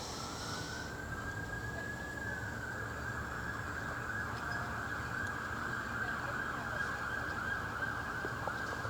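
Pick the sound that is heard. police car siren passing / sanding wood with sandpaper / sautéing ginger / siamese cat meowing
police car siren passing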